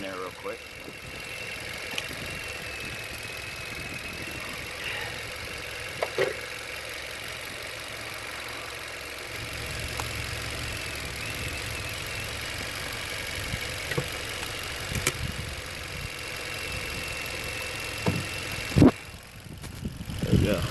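A modern car engine runs steadily at a low, even idle while Seafoam is fed through the intake. Faint clicks and handling noises sit over the hum, with a few brief bumps near the end.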